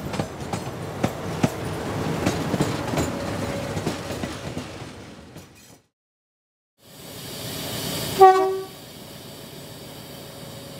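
Diesel train 52992 from Khandwa on the 1 in 40 grade from Kalakund to Patalpani, India, assisted by YDM4 banker locomotive 6734: steady loud rumble and wheel clatter, a brief dropout, then the rumble resumes with a sharp horn blast.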